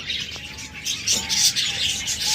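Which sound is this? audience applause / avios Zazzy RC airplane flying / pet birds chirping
pet birds chirping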